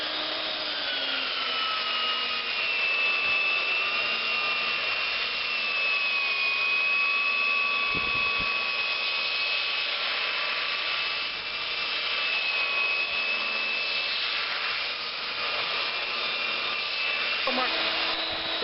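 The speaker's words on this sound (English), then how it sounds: "It'll take us a few minutes, but go ahead and start sanding, Mark." A power sander grinds a wooden board down to the tongue, giving a steady, close, continuous whirring whine with a rough abrasive hiss and no break for the whole stretch.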